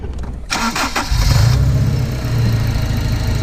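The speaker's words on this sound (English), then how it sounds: "Oh, it's really misfiring now." A supercharged Honda Accord Euro R engine runs rough while misfiring from a failed ignition coil, giving a loud, uneven, lumpy drone with stuttering pulses at the start before settling into a ragged, sustained note close by.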